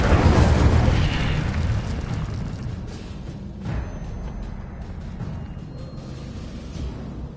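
Incendio fire spell cast in the video game Hogwarts Legacy, a loud whooshing, rumbling fiery burst that hits hardest at the start and then settles into a sustained crackling roar lasting several seconds, with no speech.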